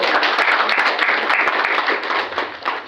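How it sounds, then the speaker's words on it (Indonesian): Steady applause from a seminar audience at a marketing event, dense clapping filling the room continuously for a few seconds, fairly loud with no talk over it. "Tepuk tangan dulu buat Bapak Ibu."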